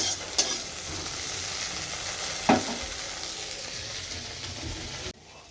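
Food frying in a pan in a home kitchen, with okra being fried: a steady, close sizzle throughout, broken by two brief utensil clatters, then stopping abruptly near the end.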